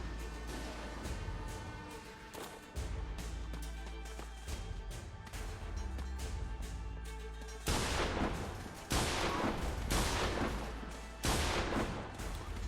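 Gunfire in the dinosaur video game Primal Carnage: repeated loud bursts of shots over a steady game soundscape, growing heavier in the second half.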